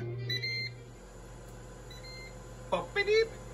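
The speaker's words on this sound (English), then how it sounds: "And the Ninja has counted down." A Ninja air fryer finishes its countdown with a couple of short electronic beeps near the start, followed later by a voice speaking close by.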